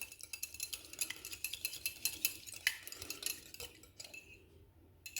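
A whisk rattles quickly and evenly against a bowl as egg and a teaspoon of milk are beaten into an egg wash, with close, light metallic ticks that fade toward the end.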